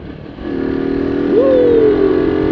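A Rusi SS250 motorcycle with an Akrapovic full-system exhaust idles close by, then is revved once so the engine note climbs and eases back down, loud and steady with no talk.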